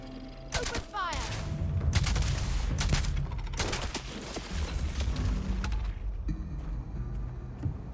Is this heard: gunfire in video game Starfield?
yes